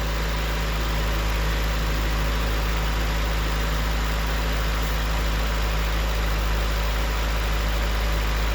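A 1991 Honda Civic hatchback (ED6) idles steadily after a fuel filter swap, a close, even mechanical hum with low vibration that holds unchanged throughout, no talking.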